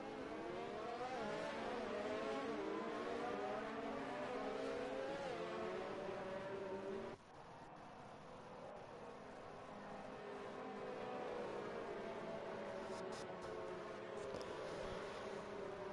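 Race cars in a racing video game rolling up to the starting grid, a steady layered engine drone with rising and falling revs from several cars, continuous and fairly loud, briefly dipping midway before the engines hum on.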